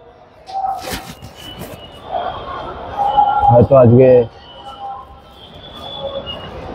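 Crowded metro station ambience with passengers leaving through the swipe gates, a steady hubbub of voices and a brief louder rumbling, screeching burst from a train mid-way, with a person talking over it throughout.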